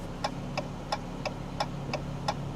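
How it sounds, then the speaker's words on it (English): Turn signals of a 2021 Dodge Challenger click in an even, steady rhythm, about eight sharp ticks over a low, quiet cabin hum, with no talking. "Listen to the turn signals in this car."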